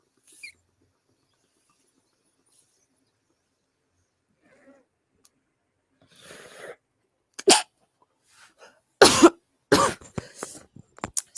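A few sharp, separate coughs, close and fairly loud, coming in a quick cluster near the end after mostly quiet moments and faint breathy noise.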